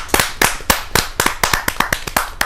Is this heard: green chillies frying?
no